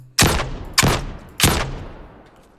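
Three sharp weapon shots in an Unreal Engine 5 shooter, evenly spaced, each a loud close crack with a short decaying tail, heard alone without voices.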